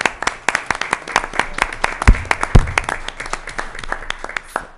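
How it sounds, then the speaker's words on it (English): A council meeting audience applauds: steady, moderately close clapping from many hands that keeps up for about five seconds, with a few sharper claps standing out near the middle before it thins slightly. "I appreciate the applause and what have you"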